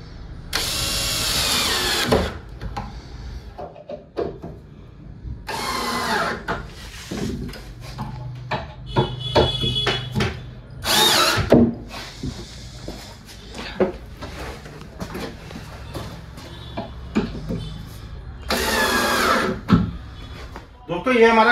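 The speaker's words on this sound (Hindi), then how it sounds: "इसको बाहर से भी हम स्क्रू कर देंगे तीन, और इधर से भी कर देंगे" A power drill drives screws into a Greenply marine-grade plywood diwan bed frame in several short, loud whirring bursts spread out over time, with someone talking in between and light knocks and clatter from handling the wood.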